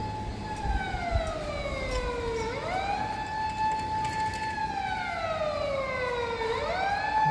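An emergency siren wails in long rising and falling sweeps, loud and continuous, with traffic rumble underneath, on an evening street in Kawasaki.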